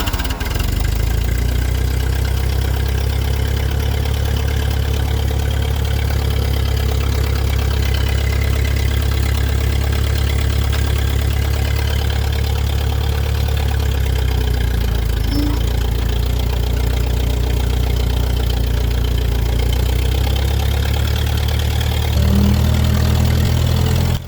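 An old tractor that sat unused for ten years runs at a steady, loud idle throughout, a continuous low engine rumble close by with a slight change near the end and no talk.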